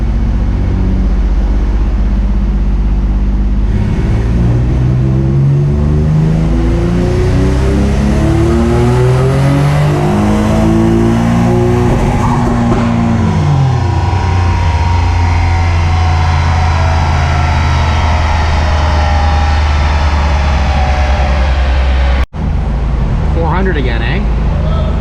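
A built, turbocharged Infiniti G35 engine roars loudly through a fourth-gear pull on a dyno, pitch climbing steadily to a sustained high-rev wail before cutting off abruptly near the end.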